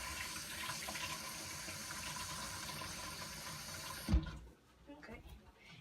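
Tap water runs steadily into a sink as hands are washed, a continuous close hiss that cuts off abruptly near the end, leaving faint handling noise.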